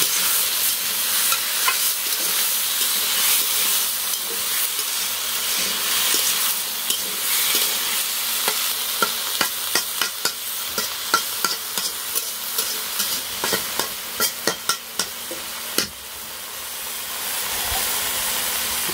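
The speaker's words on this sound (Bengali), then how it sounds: "লবণ দিয়ে দিল, একটু নাড়াচাড়া দিয়ে দিল।" Salted food frying in a pan hisses continuously while a utensil stirs it, producing a run of sharp clattering scrapes in the middle and later part, nearby and fairly loud.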